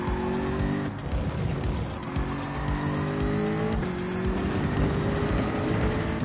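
A race car in Gran Turismo 7 brakes hard, engine droning loudly with tire squeal and skidding as revs drop and shift, a continuous close game-audio roar without talk.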